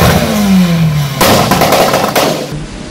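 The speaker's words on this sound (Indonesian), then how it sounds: "suara mesin kita tunjukin di mobil itu" Engine of a Mitsubishi Grandis with swapped engine and modified exhaust, revving loudly up close for a few seconds before the pitch drops and the note shifts to a rough, clattering idle.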